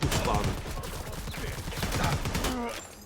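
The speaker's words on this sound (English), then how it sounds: "The Hammerhead is a strong overall assault rifle, fun overall." Hammerhead assault rifle firing in the video game Predator Hunting Grounds, a steady loud stream of rapid shots packed close together, continuing for about three seconds with no pauses.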